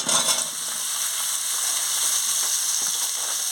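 Pumpkin and potato pieces frying in hot oil in a pan for a prawn curry, a loud close sizzle with a burst of stirring at the start, then a steady hiss.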